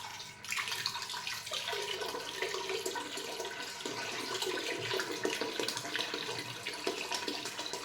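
Cooling water for a homemade eucalyptus hydrosol still runs through a distillation condenser, a soft steady trickle and splash with gurgling shifts, faint and continuous throughout.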